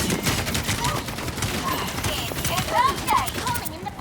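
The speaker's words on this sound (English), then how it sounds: "Who the fuck is throwing bombs at us?" Rapid bursts of explosions and gunfire-like blasts from bombs thrown during Final Fantasy XIV combat, dense and continuous over four seconds with voices talking underneath.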